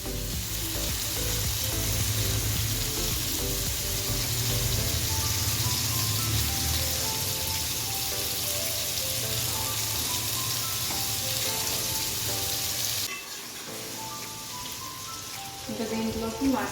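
A pot of raw jackfruit dum biryani bubbles and sizzles continuously, a dense hissing simmer that holds steady before a brief dip and pickup near the end.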